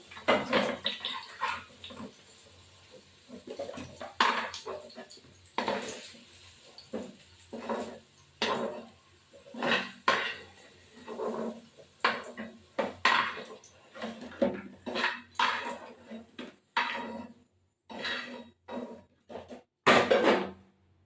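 A spatula lifts fried potatoes out of an oily pan, producing repeated metallic scrapes and clinks in irregular bursts separated by short quiet gaps, close and moderately soft.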